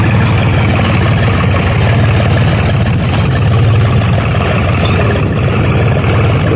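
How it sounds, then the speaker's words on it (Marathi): A tractor engine runs steadily at close range during paddy sowing work on a farm, a loud continuous low chugging drone with no pauses. "ट्रॅक्टर 1 नंबर आहे."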